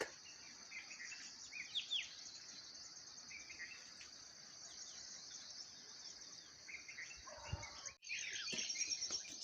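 Birds chirp and tweet on a mountain morning over a steady high insect drone, with scattered close calls and a brief rustle or knock near the end; fairly quiet overall.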